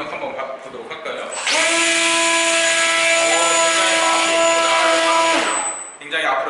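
Electric motor and propeller of a Sky Scout RC airplane run up on the throttle during setup with a Futaba controller, a loud steady high whine that starts abruptly, holds for about four seconds and then cuts off, close by.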